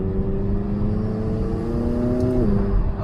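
A 2019 McLaren 570S Spider's 3.8-liter twin-turbo engine heard from inside the cabin with the window down: a steady, humming engine drone with turbo whir that drops in pitch near the end as the revs fall.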